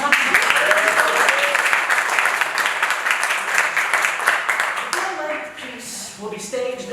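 Applause from a theatre audience fills the whole stretch, dense steady clapping that thins slightly near the end, with voices mixed in among the crowd.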